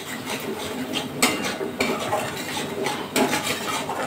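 A spatula scrapes and clinks against a pan as a ground coconut, poppy seed, mustard and green chilli paste is stirred in with aubergine, close and busy, with a faint sizzle underneath and no talking.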